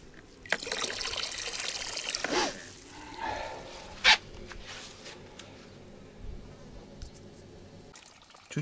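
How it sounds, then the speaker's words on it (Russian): Water drains back down a well pipe through a leaking check valve, a trickling, pouring gurgle with a few louder splashy bursts and a brief knock, steady at close range with no talking. "обратный клапан пропускает, вода уходит с трубы"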